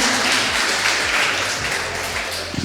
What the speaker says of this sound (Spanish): vamos a darle un fuerte aplauso a Alex.